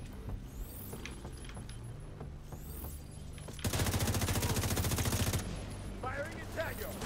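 Sustained automatic gunfire from The Division 2 video game, a dense loud burst of rapid rounds lasting about two seconds, preceded and followed by scattered lighter shots and game ambience.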